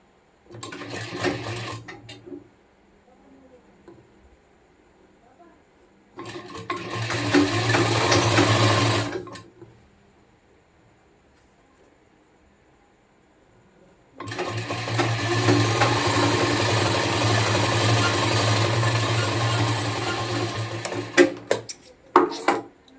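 A sewing machine stitches a shirt shoulder seam in three loud, steady whirring runs separated by pauses, the last run the longest, with no talking.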